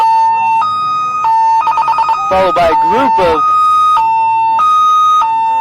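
Ambulance from St. Joseph's Hospital in Huntingburg passing in a town anniversary parade in Holland, around 1994, its siren alternating between two tones with a burst of rapid yelping warbles in the middle, loud and close, with someone talking over it.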